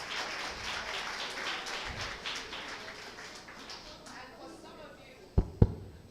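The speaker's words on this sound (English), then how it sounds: "give them a round of applause." Audience applause at a law week event, a dense wash of clapping that swells and then thins out, closing with a couple of sharp, close taps or claps.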